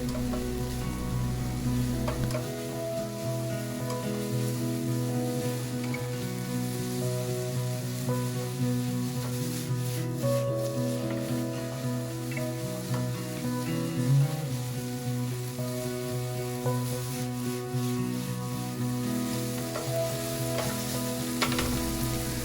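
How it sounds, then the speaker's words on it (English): Beef is stirred and fried in a pan for a Japanese beef and mayo rice bowl, giving a continuous close sizzle with soft scraping over a steady low tonal hum. "Stir a bit more so that the flavor blends in evenly."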